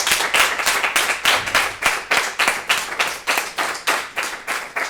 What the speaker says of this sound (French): Je vous demande d'applaudir le gouvernement de Révolte-toi Assas.